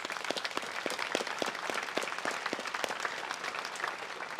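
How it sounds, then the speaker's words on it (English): An audience applauds at a celebration of life with steady, moderately dense clapping that keeps up throughout, fairly distant and without voices over it. "We're going to clap and say thank you for your tribute"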